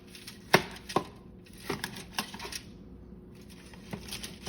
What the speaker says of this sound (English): just gonna use a spoon, scrape it out best you can